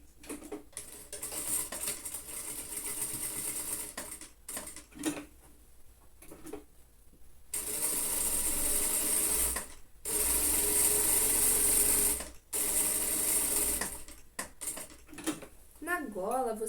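A sewing machine stitches the collar of a child's lined coat in several bursts of fast mechanical whirring, loud and close, separated by pauses where someone talks.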